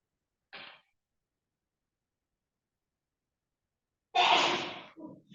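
One person gives a single forceful sneeze, close and fairly loud in a quiet room, preceded by a brief faint breath and followed by a small trailing sound.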